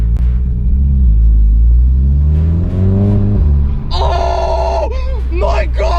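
A VW Scirocco fitted with a new exhaust revs with a loud, deep rumble that swells and falls, and excited voices break in over the engine near the end.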